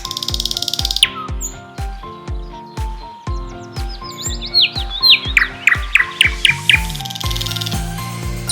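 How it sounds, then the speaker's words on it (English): Nightingale song rings out clearly, a lively sequence of sharp repeated chirps and whistled trills in quick rhythmic bursts, close and alone. "Nightingale."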